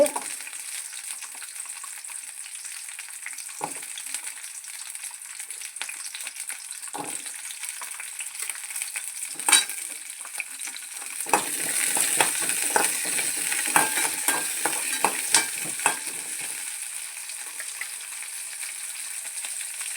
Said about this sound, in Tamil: சின்ன வெங்காயமும் பூண்டு 2யுமே போட்டு ஒரு ரெண்டு பரட்டி விட்டுட்டு